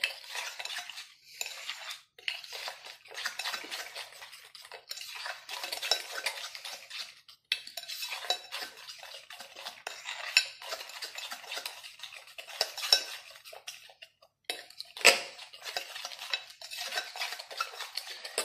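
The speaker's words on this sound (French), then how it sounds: "Vous mélangez jusqu'à ce que nous voyons qu'il n'y ait plus de blanc." Batter mixed in a bowl with a utensil, a steady run of close scraping and tapping strokes in uneven rhythm with brief pauses, alone and fairly quiet.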